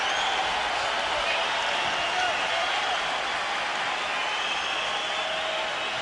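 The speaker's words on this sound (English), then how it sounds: "the crowd stands and applauds the action in the ring" A boxing arena crowd standing and applauding after a flurry in the ring, a dense continuous wash of clapping and cheering at steady loudness, with a commentator talking over it.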